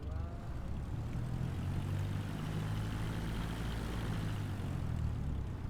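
A Cessna propeller plane's engine is throttled up for taxiing, giving a steady, droning propeller hum with a low rumble heard from inside the cabin, continuous and without talk.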